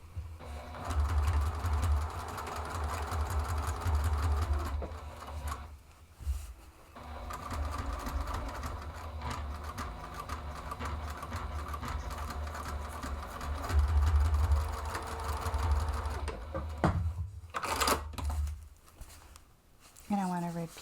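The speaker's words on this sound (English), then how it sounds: "I'm going to stitch across there with the 3/8 of an inch to give this bag its depth" A sewing machine stitches a 3/8-inch seam across the base of a zippered bag, whirring steadily in bursts with brief pauses and soft fabric handling, while someone speaks over it.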